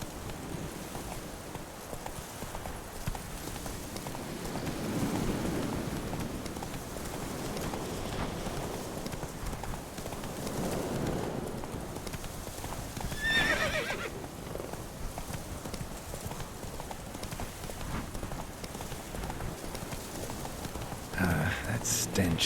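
Roach, a horse in The Witcher 3, gallops in rain with steady clip-clopping hooves and whinnies over soft rainfall; a voice speaks briefly partway through.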